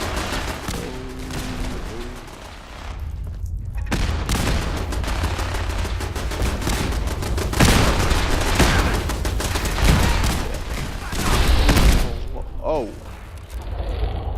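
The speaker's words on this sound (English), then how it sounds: "the turrets are gonna catch them no matter what side you're on" Automated turrets in Fallout loosing sustained bursts of gunfire with booms and mechanical clatter throughout a battle at a bunker, dense and continuous, with a voice speaking briefly over it.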